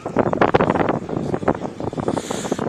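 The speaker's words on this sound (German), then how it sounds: "Es ist stürmisch und sonnig und ja." Gusty wind on a stormy, sunny day outdoors at Game City 2015, roaring against the microphone in uneven buffeting surges with rumbling low noise throughout.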